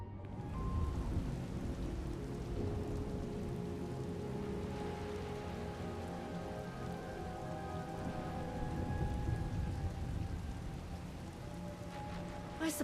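A thunderstorm in the SWTOR video game brings a dense, steady roar of heavy rain with low rumbling thunder underneath, filling the scene continuously without any talk.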